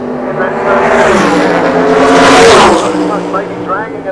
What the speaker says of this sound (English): Here he goes, building the revs right up.